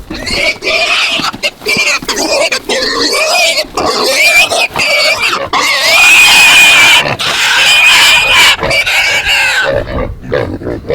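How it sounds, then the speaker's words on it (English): Red Wattle pigs grunt and squeal loudly up close, a continuous run of harsh, strained vocal squeals with rhythmic breaks, with no talk. "this is a good sized pig"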